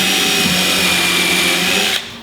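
A power drill runs steadily while anchoring the sides of a children's bookcase, a loud close whirring held for two seconds before the motor winds down, with no voices.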